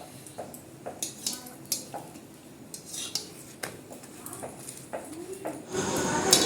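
Paratha frying in a pan with oil as a spatula presses down its edges, giving repeated close metallic clinks and scrapes of the utensil against the pan, with a louder sizzling rush near the end.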